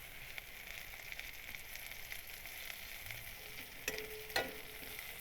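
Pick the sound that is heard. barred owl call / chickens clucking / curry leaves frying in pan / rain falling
curry leaves frying in pan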